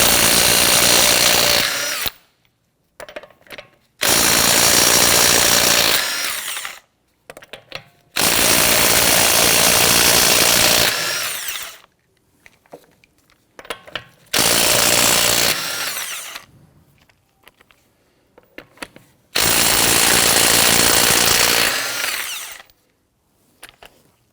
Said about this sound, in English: loosen and remove your lug nuts